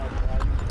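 Horse hooves clip-clopping at the ancient Roman city of Jerash in Jordan, a busy close outdoor clatter blended with loud background noise.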